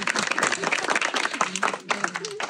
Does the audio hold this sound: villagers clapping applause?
yes